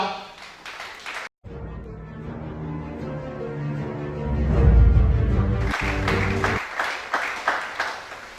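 A church congregation at a 2020 Gabonese worship service breaks into applause and cheering, building to a loud swell mid-way, with music and voices carrying underneath before steady rhythmic clapping resumes.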